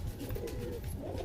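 A pigeon in a loft gives a brief, close, low throaty coo, heard alone without speech.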